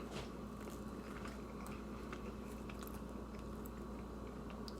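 Close, quiet biting and chewing of homemade garlic cheesy bread, with soft crunchy, moist mouth sounds repeating irregularly and no talking.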